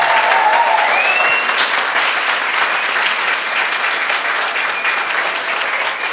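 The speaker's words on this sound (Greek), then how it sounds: "Πάμε ένα δυνατό χειροκρότημα." A theatre audience at a Greek stand-up comedy show claps loudly and steadily for about six seconds, a dense, even wash of applause. A few faint whistles rise near the start.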